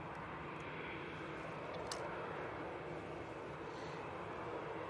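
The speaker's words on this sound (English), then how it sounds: "Coming down towards us now is this A320." An Airbus A320 airliner bound for Marrakesh comes down toward Manchester Airport, giving a soft, distant, continuous engine rumble and hiss that stays level throughout without speech.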